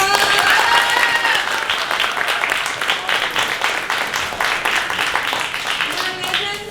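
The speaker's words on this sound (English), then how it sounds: "Let's give him a round of applause." A crowd applauds after a high school cast performance of You're A Good Man, Charlie Brown. The clapping is loud and sustained for several seconds, with faint tonal sounds and voices blended underneath.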